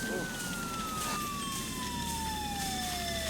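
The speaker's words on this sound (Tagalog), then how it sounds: "Yan na sa ambulansya." A wailing emergency siren slowly falls in pitch, heard at a moderate distance over steady traffic noise and faint background voices.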